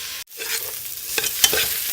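Onions for an Indian vegetable biryani fry in a pan and are stirred, giving a steady close hiss broken by scraping clicks, with a brief drop to near silence early on.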